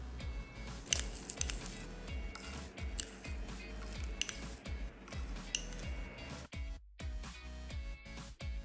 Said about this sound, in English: a spice grinder and adding our own customized blend right inside here